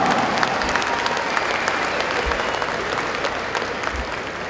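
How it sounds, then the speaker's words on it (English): Banquet audience at an awards ceremony in St. Louis gives a round of applause, a dense crackle of many hands clapping at moderate volume, tapering slightly toward the end. "Can you give them a big round of applause?"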